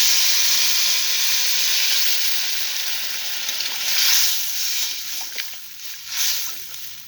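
Water poured into potato curry in a hot pan gives a loud, steady hiss of steam and sizzle that eases after a few seconds into softer bubbling with brief flares.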